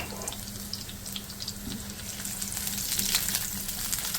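Chopped garlic, three to four cloves, hits hot oil in a pan with a continuous close sizzle that swells slightly louder toward the end, with no talking over it.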